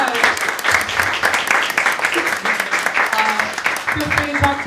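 Audience applause at a panel event on games, steady moderate clapping throughout with voices talking over it.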